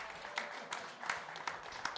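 A room full of people at a venture capital panel claps for themselves, a short burst of even, moderate applause heard without talk.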